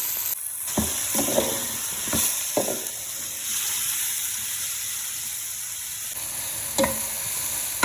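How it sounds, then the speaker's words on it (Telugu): Tomatoes, okra and brinjal frying in oil in a pan for saluna, with a steady close sizzle and several scraping stirs of a spoon against the pan. "స్లో మోషన్లో పెట్టి కొద్దిసేపు బాగా వేగనిద్దాం"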